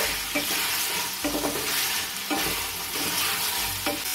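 Tomato and spices sautéed and stirred in a pan for a vegetarian elephant-foot yam and kohlrabi curry, with a steady loud sizzle and repeated scraping stirs at a regular rhythm, close up and with no talking.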